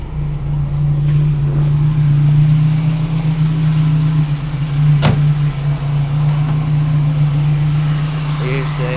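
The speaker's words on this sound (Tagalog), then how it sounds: "Here's the engine." Steady idle of a Toyota 3A-U engine in a jeep, a strong low drone holding even throughout with one brief click near the middle; a faint voice murmurs in the background.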